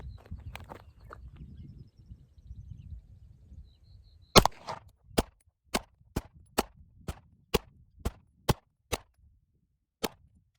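A Smith & Wesson M&P 2.0 Competitor pistol fires about ten sharp, loud shots at 15 yards, most of them spaced in a steady rhythm after a quieter stretch of handling noise.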